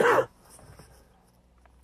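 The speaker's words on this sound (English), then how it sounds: "so I'm sorry for coughing" A single short, sharp cough from someone with a cold right at the start, followed by quiet room noise.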